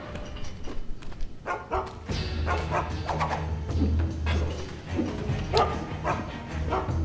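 A dog barks and yips repeatedly in the stealth video game Mark of the Ninja, a string of close, fairly loud barks with a low thudding game background.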